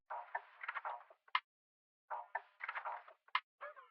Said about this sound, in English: the first element that I added was this perk loop that sounds like this.